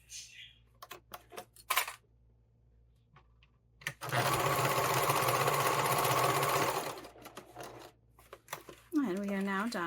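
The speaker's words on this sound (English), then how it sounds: "I'm just going to sew this back and forth a few times just to have it secured nicely" A sewing machine stitches back and forth on a fabric tool roll, sounding as a loud steady whirr for about three seconds between scattered handling clicks, with a voice speaking briefly at the end.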